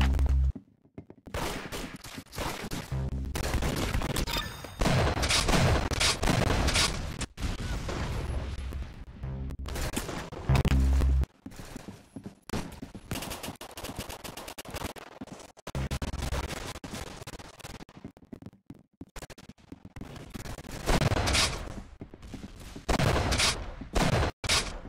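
Rapid gunfire bursts from a Roblox Arsenal match crackle loudly through most of the stretch, dense volleys with short gaps and booming low hits, nearly continuous and foreground.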